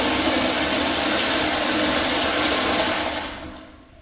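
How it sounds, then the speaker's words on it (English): A 1.28-gallon Kohler Kingston toilet flushing a cup away: a loud, steady rushing roar of water close by, holding for about three seconds before draining off and fading, with no talking. "Now let's flush the cup."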